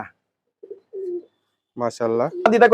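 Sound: pigeons cooing

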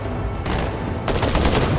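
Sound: gunfire in Halo 2 video game

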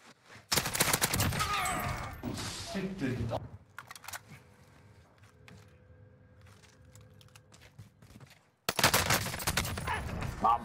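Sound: gunfire from Warzone video game, H4 Blixen SMG

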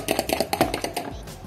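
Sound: whisking egg yolks

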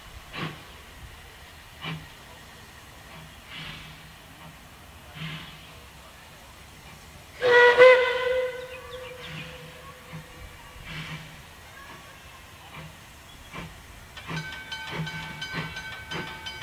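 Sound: Puffing Billy steam train departing, whistle and steam hiss

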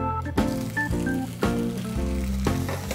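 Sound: filet mignon steak searing in a hot non-Teflon frying pan

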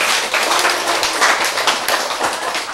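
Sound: applause, clapping hands

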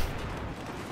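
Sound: grenade explosion in the video game Battlefield 4

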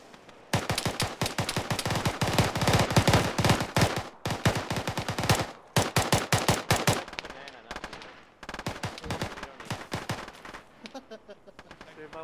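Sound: gunfire in the video game Arma 3

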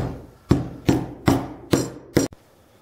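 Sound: hammering a metal barrel onto a shaft

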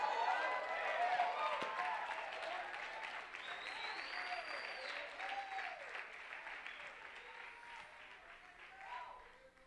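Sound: congregation applauding

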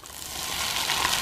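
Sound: curry leaves and dried red chillies sizzling in oil with spluttered mustard

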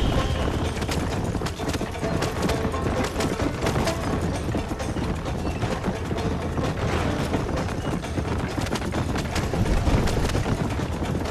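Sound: horse hooves galloping in a cart race, Red Dead Redemption video game

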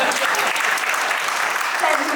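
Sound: audience applause after a poem recital

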